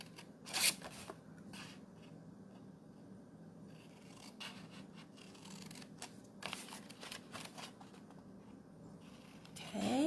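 Scissors snip along scored paper lines, quiet and close, with a few sharp cutting strokes amid soft rustling and paper handling.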